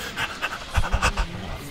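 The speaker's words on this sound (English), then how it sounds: "Breathing a little hard." A person breathing heavily in quick, close panting bursts, loud and uneven, with no talking.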